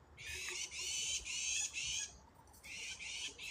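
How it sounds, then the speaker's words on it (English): A mockingbird calls outdoors with harsh, raspy squawks, four drawn-out bursts in a row, a short gap, then another, faint against a quiet background. "that was a mockingbird"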